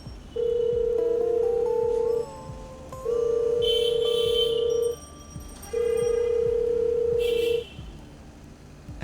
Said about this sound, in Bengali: অলোক এই কথা ভাবতেই সে তার ফোন থেকে রফিক সাহেবকে ফোন করে